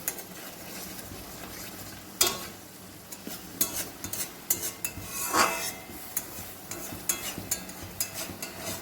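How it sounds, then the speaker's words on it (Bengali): Paneer being fried and stirred in a pan with salt and turmeric, a low continuous sizzle under repeated scraping and clinking of a utensil against the pan, busy and close with no talking. "ভালো করে এটাকে ভাজতে হবে।"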